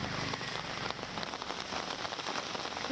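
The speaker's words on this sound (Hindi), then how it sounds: "तेज बारिश दिल्ली के अलग अलग इलाकों के अंदर जो है वो हुई है" Heavy rain pours steadily in Delhi during a cold winter spell, a dense, continuous hiss of drops hitting surfaces, loud and close with no voices.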